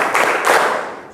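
Children clap together in a classroom counting game, a couple of loud, closely grouped bursts of hand claps in quick succession, near and ringing briefly in the room.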